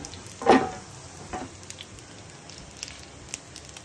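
Whole cumin seeds hit hot oil with a brief sharp sizzle, then settle into a quiet, steady crackle with faint pops.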